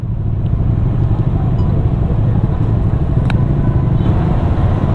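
Around forty Bajaj Dominar motorcycles on a group ride at India Bike Week in Goa give off a steady, loud engine rumble, close and continuous, with no one talking.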